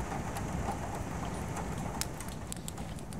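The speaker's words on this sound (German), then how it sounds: "Das war nur der Regen. Das ist halt ein harter Regen." Hail strikes a window in the Don't Knock Twice video game, scattered sharp taps and clicks landing irregularly over a steady hiss of hard rain.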